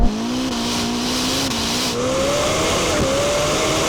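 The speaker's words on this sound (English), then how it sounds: "Let's do a drag race." A Lamborghini Temerario and a Ferrari SF90 accelerating side by side in a drag race, loud sustained engine roar climbing steadily in pitch through the gears, close and continuous.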